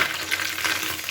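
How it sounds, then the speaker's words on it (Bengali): Small fish spit and sizzle in hot oil in a pan as they are flipped, making a close, steady crackling fry with no talking. "আমি মাছগুলোকে এবার উল্টে দিচ্ছি"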